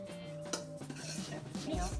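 Triple chocolate cookie dough with cocoa powder being mixed in a bowl, a spoon scraping and clinking against the sides in quick uneven strokes, close and fairly quiet, with a little voice murmuring in the background.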